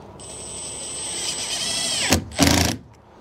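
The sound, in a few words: screw driven in while installing a window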